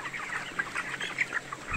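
Young chickens in a poultry coop on a farm of about 7000 birds cluck and chirp in a busy overlapping chorus, steady and fairly close, with no voices.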